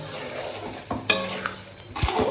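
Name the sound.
onions frying and being stirred in a pan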